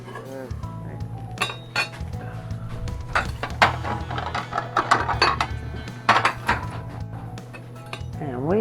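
Dishes and cutlery clink as Reuben sandwiches with provolone are plated, several light clatters and taps up close while a person talks over them.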